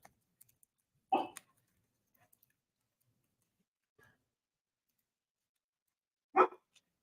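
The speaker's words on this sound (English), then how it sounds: "Lucy, there's nothing to bark at, I promise." Two single sharp barks from a nearby dog, separated by several seconds of near silence indoors, each bark loud and abrupt.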